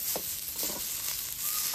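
Onion and chopped potato frying in a pan, a constant hiss of sizzling oil with a few soft stirring taps, close and steady.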